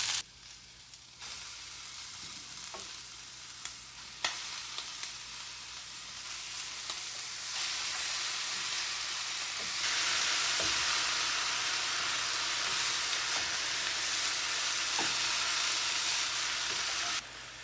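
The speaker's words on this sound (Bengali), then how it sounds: "দেখেই বোঝা যাচ্ছে যে ভাজা অলমোস্ট হয়ে এসেছে। এবার আমি পালং শাকটা দিয়ে দিব।" Spinach hitting a pan of frying prawns sets off a steady, close sizzle that swells louder midway, with occasional clicks of stirring and no voices.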